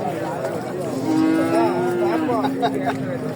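A heifer moos once, long and drawn-out, loud and close at a cattle market in Bangladesh, over a steady background hum and faint murmuring.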